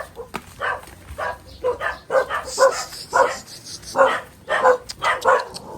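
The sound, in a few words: dogs barking on the road to the house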